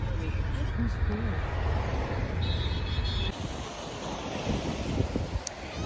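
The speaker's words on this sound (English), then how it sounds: "At the most incredible beach right now on the ends of the earth in Oahu" Ocean surf and strong wind roll across a remote beach on Oahu, with a constant heavy rush and wind buffeting the microphone. The sound eases slightly partway through, and faint voices may sit under the noise.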